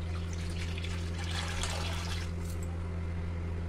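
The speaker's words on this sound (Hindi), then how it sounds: "इसमें डाल देंगे पानी 3 गिलास।" Three glasses of water poured into an iron wok on a gas stove, a continuous splashing pour over a steady low hum that fades toward the end.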